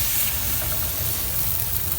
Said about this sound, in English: You want to hear the sizzle when you pop them in.